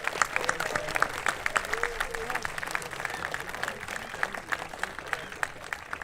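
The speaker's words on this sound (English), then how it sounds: "A round of applause for all our award winners once more." Applause at a high school awards night ceremony, with an audience clapping in a sustained patter of individual hand claps and crowd murmur mixed in, moderately loud and continuous.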